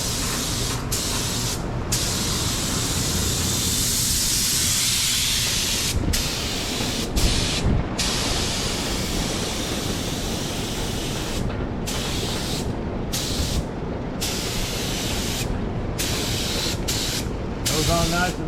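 DeVilbiss FLG4 spray gun laying down finish with a loud, close hiss of air and atomized coating, cut by repeated short pauses as the trigger is released; people talk in between.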